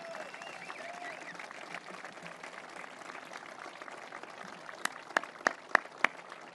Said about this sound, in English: Stand up, get some applause.